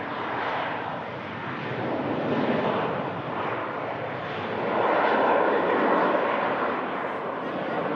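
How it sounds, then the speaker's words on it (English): A Lufthansa Airbus A321 on its takeoff roll, a steady broadband jet roar that holds loud and swells slightly toward the end as it nears rotation. "Lufthansa, Airbus A321, just rotating shortly"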